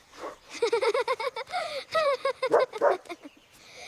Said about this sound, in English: So fun! Good dog, Coco.